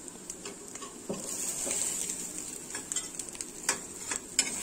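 Leftover rice tikki patties frying in a pan, a steady high sizzle broken by occasional soft stirring scrapes and clicks, close and moderately quiet.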